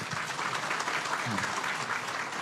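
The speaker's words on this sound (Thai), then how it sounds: "ปรบมือต้อนรับ" Audience applause welcoming a physician guest onto a Thai talk show about an immunity-boosting supplement, a steady dense wash of clapping throughout with faint voices underneath.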